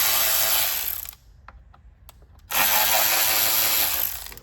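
A socket wrench with an extension works off parts of a 3.6 Pentastar engine, with two loud bursts of harsh whirring and a quiet gap of sparse clicks between them.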